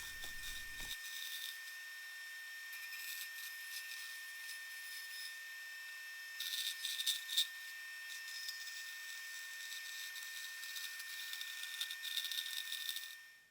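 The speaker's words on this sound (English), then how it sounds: "we're going to head out to the bandsaw and cut some Lexan polycarbonate sheet that is 3 millimeters thick" A bandsaw cuts a 3 mm Lexan polycarbonate sheet, a steady close-up whine and rasp that runs for about thirteen seconds, with a brief louder grinding burst partway through.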